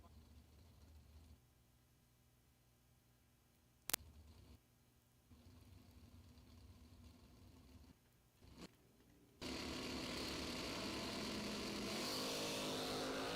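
Bracket-racing drag cars run down the strip, a faint distant engine rumble with a sharp click that swells into a loud, sustained roar near the end.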